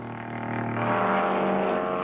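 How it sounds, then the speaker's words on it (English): Racing car engines roar and rise in pitch as they accelerate, a loud sustained howl building toward the end. "sports cars howling through the night"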